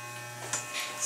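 Electric hair clippers buzz steadily during a hair fade, a close, even motorised hum with slight shifts as the blade moves.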